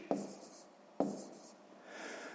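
A pen taps twice on paper, each stroke followed by a short scratching trail as a sum is written down; quiet and close, with no talk.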